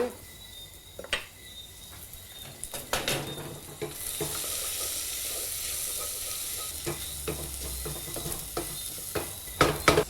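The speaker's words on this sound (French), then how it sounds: "À la fin, j'ajoute un peu d'ail haché." Chopped garlic added to a pan of sweating vegetables for a scallop sauce sets off a bright, loud sizzle partway through, with stirring clicks and scrapes before and after, at close range.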